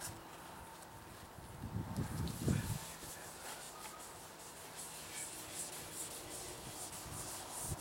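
A shop towel rubs amber dye onto a guitar top in a workshop, faint close scrubbing and wiping with a brief louder burst of friction early on, then steady soft rubbing.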